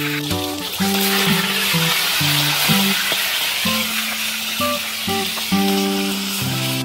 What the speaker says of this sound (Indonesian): Daging burungnya aku goreng.